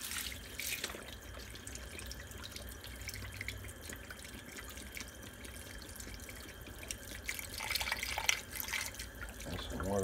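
Water pours into a pot of split pea soup holding a ham bone, onions, carrots and beef stock, a steady faint splashing and trickle with drips throughout.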